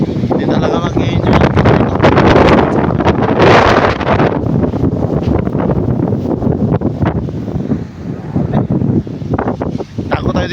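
Strong wind sweeps across 7 Commando beach, blowing sand and roaring into the microphone as loud, continuous buffeting that never lets up, with a voice faintly mixed in.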